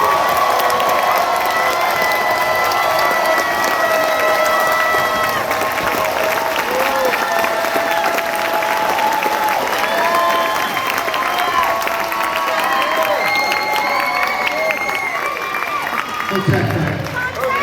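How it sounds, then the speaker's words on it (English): An expo crowd gives a long, loud burst of applause mixed with cheering and shouts, a dense continuous roar that fades slightly near the end as a voice comes in. "Give him a nice, warm round of applause for Dr. Kaba Holiday."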